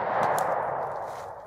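A handgun round strikes a steel target at an outdoor range, giving a sharp metallic clang that rings and fades over a second or so, fairly loud and heard alone.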